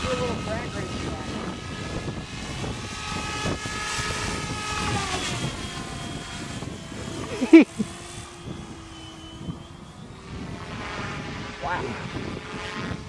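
An MSH Protos RC helicopter flies with a steady rotor and motor whine that rises and falls as it passes, with a sharp bump partway through and a voice briefly exclaiming.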